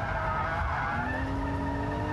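A car drifts with its rear wheels skidding after a hard turn-in and full throttle, the tyres letting out a steady, loud squeal with a rising tone over continuous engine roar, no talk.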